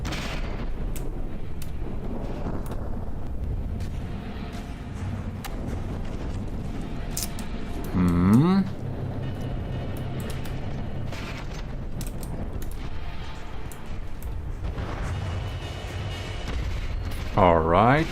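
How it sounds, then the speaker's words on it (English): Mortar fire in the naval combat game From the Depths: scattered booms and popping shots through the stretch, mid-distance and moderately loud, with a person talking over them. "There we got some mortars popping in there too."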